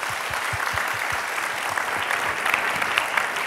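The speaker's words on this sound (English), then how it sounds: "please join me to give these two speakers an applause" A seminar audience applauds two speakers, with steady crowd clapping and a few distinct claps standing out near the front.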